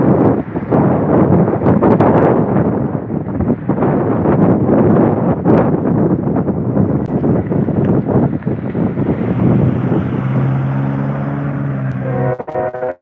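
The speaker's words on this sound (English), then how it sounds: "Wouldn't be quite as bad if it wasn't for that wind." Strong outdoor wind buffeting the microphone, loud continuous rumbling gusts that fill the clip, with a faint engine-like drone rising near the end.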